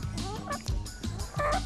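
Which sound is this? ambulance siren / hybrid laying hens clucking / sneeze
hybrid laying hens clucking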